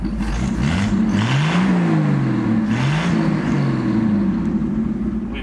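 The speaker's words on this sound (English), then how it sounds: "We've got a hell of an exhaust leak now" Chevrolet Nova, burnt and abandoned for 30 years, driving with a bad exhaust leak: a loud, steady engine drone with rising and falling revs and a raspy, blatting exhaust throughout, no talking.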